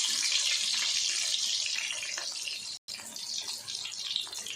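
Chicken kofta fry in hot oil with a steady, bright hiss and crackle, close and fairly loud, broken by one brief silent gap, with no voices.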